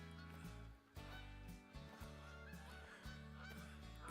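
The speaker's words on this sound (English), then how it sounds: "Where are the pheasants? Okay, I hear them." Pheasants in theHunter Call of the Wild give repeated honking, goose-like calls in short bursts over background game music, fairly faint overall.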